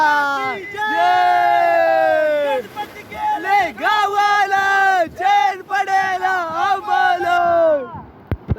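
Close, loud cheering and shouting voices at a Ganesh idol immersion on Malgund beach, sustained yells in bursts with breaks between, mixed with nearby chatter and a spoken word.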